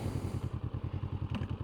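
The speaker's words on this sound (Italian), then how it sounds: "Accendiamo la moto" A Honda NX500 motorcycle engine fires up and settles straight into a rapid, even, pulsing idle thump, close and clear, with a faint click partway through.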